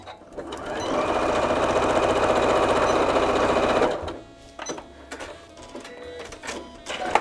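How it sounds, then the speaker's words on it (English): Sewing machine stitching a seam along a line through two pieces of fabric placed right sides together, running steadily and loudly for about three seconds before stopping, followed by a few soft handling clicks. "then we're gonna sew on that line."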